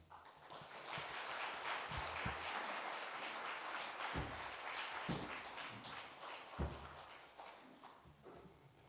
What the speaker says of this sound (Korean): 큰 박수로 우리 문숙소 목사님을 강단에 모시겠습니다